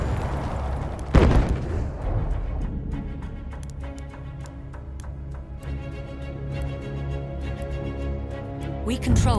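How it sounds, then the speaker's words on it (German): A grenade blast in Battlefield 1 conquest gameplay lands as a sharp, loud boom near the start, followed by scattered gunfire and rumble while voices speak over the action. "Granate ist raus."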